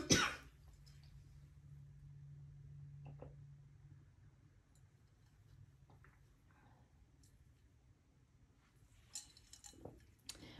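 A woman coughs and clears her throat in short bursts, sharp at the start and again near the end. A faint hum and quiet clicks fill the stretch between.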